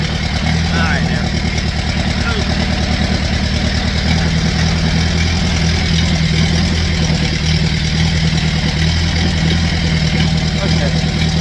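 A vehicle engine idles and runs steadily with a continuous low, throbbing mechanical drone, loud and close, holding an even level for the whole stretch with faint outdoor background.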